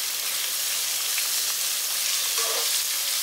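Garlic sautés in a hot pan with a continuous, even sizzle and hiss at moderate volume, steady from start to finish with no talking.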